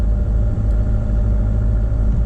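First-generation Mercedes Sprinter van with a 79 hp diesel engine, a steady low idling rumble heard close and constant for a couple of seconds, with no voices.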